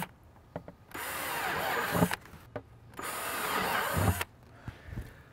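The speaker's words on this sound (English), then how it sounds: "I picked the biggest bit in my drill kit and I'm just going to go around the perimeter in several places and create those holes" A power drill with a large bit bores holes around the rim of a bucket in two loud whirring bursts, each about a second and a half, with quiet handling noise between them.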